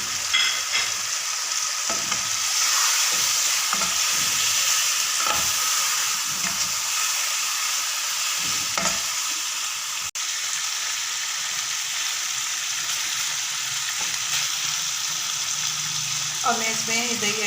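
Chicken pieces sizzle and fry steadily in a hot pan for a smoky chicken curry, with a bright continuous hiss and occasional stirring scrapes throughout, no talking.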